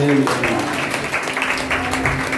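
A church congregation at a Sunday worship service claps together in a dense, steady burst of applause, close and loud, with voices mixed in.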